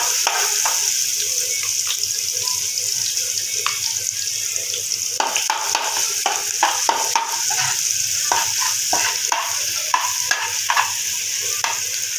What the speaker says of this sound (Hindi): तो अभी मैं लहसुन का पेस्ट ऐड करती हूँ।